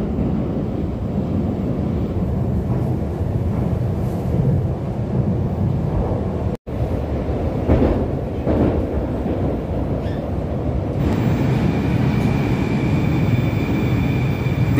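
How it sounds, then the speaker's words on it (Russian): A Moscow metro train on the circle line rumbles loudly and continuously, with a deep roaring drone and rushing noise, briefly cutting out partway, then steady again. "А сейчас на кольцевой линии ходит такой прекрасный новогодний поезд."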